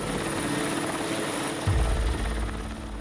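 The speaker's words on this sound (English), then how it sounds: "Helicopters are used to transport the ground troops to this inaccessible battlefield." Helicopter flying overhead above a mountain wildfire, a steady loud rotor thrum and engine drone that swells and deepens near the end as it passes close, with no talking.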